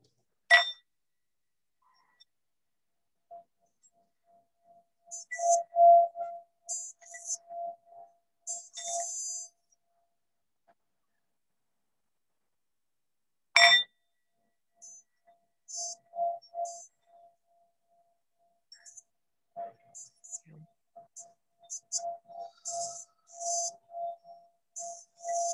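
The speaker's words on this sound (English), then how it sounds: "Gonna ring the bowl" A singing bowl is struck twice, about thirteen seconds apart, and each strike leaves a bright ringing tone that fades slowly under soft, quiet sounds in the room.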